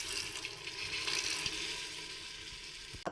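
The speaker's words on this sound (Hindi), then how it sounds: "इसमें ऐड करेंगे हम थोड़ा सा पानी" A little water is poured into a sizzling curry cooking in a pan, giving a steady close hiss and splashy rush with a brief knock near the end; no voices.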